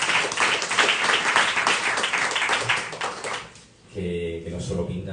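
An audience at a book launch applauds the author with a burst of dense clapping for about three and a half seconds, which fades out before speech resumes.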